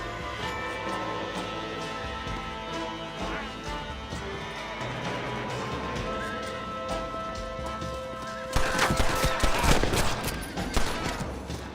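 Gunfire in the western game Red Dead Redemption, a sudden loud volley of shots breaking in near the end over a steady musical and ambient backdrop, with horse sounds mixed in.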